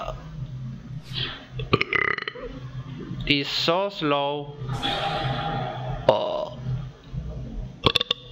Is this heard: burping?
yes